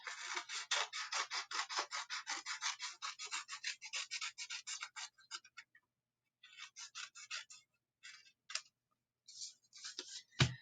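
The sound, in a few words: scissors cutting paper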